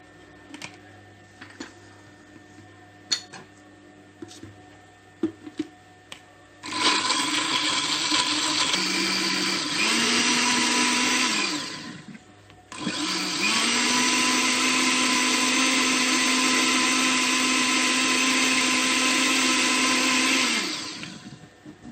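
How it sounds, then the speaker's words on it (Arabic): Blender grinding tomatoes with a little water for pizza sauce, two loud sustained motor bursts separated by a brief pause, preceded by scattered clicks and clatter. "دابا طحنا المطيشه"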